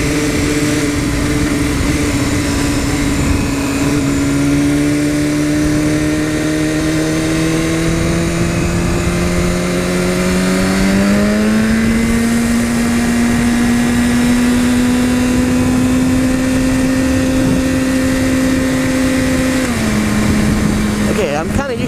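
A 2015 BMW S1000RR motorcycle engine drones loudly while riding, its pitch climbing steadily and stepping through gear changes, with a voice speaking over the engine.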